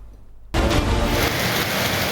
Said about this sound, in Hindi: पेशावर में तेज बारिश